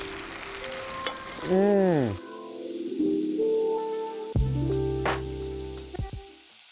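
Vegetables coated in chicken fat are tossed in a hot pan, giving a steady sizzle over background music, with a short appreciative hum from a voice.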